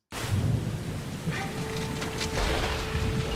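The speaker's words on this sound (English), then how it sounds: "Oh, look at that rain." Rain pours steadily with a rumble of thunder in a Wuthering Waves game showcase; a continuous loud downpour runs throughout, swelling with thunder and a few tonal game effects layered over it.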